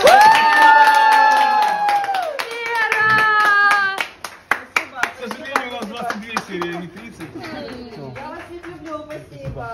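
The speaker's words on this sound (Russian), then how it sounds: "Аплодируем э, Вере, она снялась в проекте, скажем ей а спасибо" A small group claps and cheers, starting with a sustained shout, then loud scattered clapping that thins out into a few individual claps, with people talking afterward.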